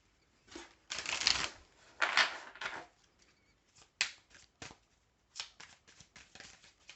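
Tarot cards shuffled by hand, a run of crisp riffling bursts followed by shorter flicks and taps, close and fairly quiet with no voices.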